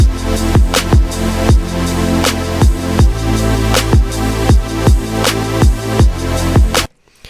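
Synth chords and bass over a steady kick drum, run through an inverted Ableton auto pan effect, the tone rhythmically pulsing in volume throughout before cutting off near the end.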